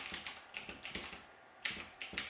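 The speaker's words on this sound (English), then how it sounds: "Now I'm gonna try typing on it" Clicky keystrokes on an AUKEY tenkeyless mechanical gaming keyboard with blue switches, typed in short bursts with brief pauses, close and fairly quiet, no talking.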